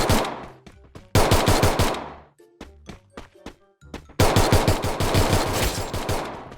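Rapid automatic gunfire from a Free Fire battle royale match, loud bursts of machine-gun shots in two long volleys separated by scattered single shots, close and dominant.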